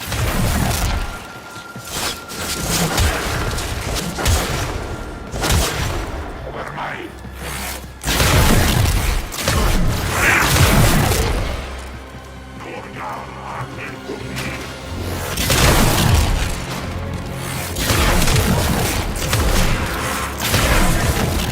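Repeated heavy booms and blasts from explosions in the video game Warframe crash through a dense, noisy battle din, loud and close, with rumbling surges between bursts.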